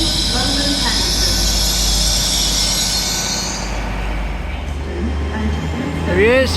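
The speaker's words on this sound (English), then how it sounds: "The next train to arrive at platform 2 will be the Cornish Riviera, the 12:26 Great Western Railway service to Penzance." A Great Western Railway Cornish Riviera service to Penzance rumbles loudly through a station, a heavy steady roar with a hissing high whine that fades, then squealing wheels toward the end, with talk underneath.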